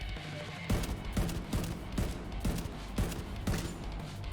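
Rapid gunfire in The Division 2 aimed at a distant sniper, a steady run of sharp, loud shots about every half second, fairly close and continuous over a low ambient game background.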